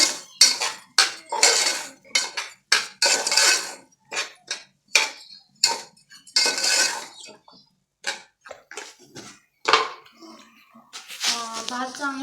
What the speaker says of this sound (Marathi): त्यात आपण हे तांदूळ घालू आणि हाही चांगला असा तेलात परतून घेऊ आपण